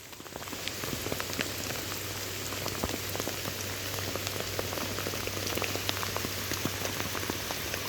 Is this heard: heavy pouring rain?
yes